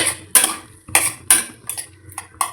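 Chicken 65 pieces drop into a pan for kuzhambu, making several sharp clattering metallic knocks and scrapes close by, irregularly spaced over a couple of seconds with no talk.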